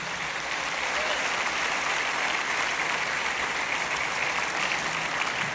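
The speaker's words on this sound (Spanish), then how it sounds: "Denle un aplauso al Espíritu Santo de Dios." A church congregation at a September 2023 conference gives loud, dense, sustained applause that continues unbroken from start to finish, with no talking on top.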